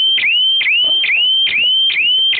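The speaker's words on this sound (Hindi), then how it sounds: "ये लाइट गई तो ये अलार्म" A loud electronic power-failure alarm beeps in a fast, repeating pattern, each tone sweeping upward, sounding close and continuous with no talking.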